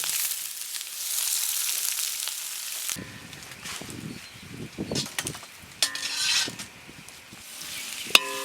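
Onions frying in oil for a Kerala-style Malabar chicken biryani, a steady sizzle at first, then irregular stirring scrapes and clatter over the frying, ending with a sharp knock.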